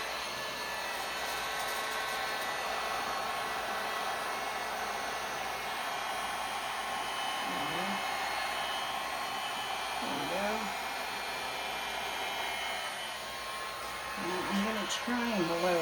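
A hair dryer blows steadily on a seahorse resin art canvas with sand, a loud continuous rushing hiss that lasts throughout, with a person talking faintly underneath.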